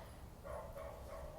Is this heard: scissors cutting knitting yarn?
no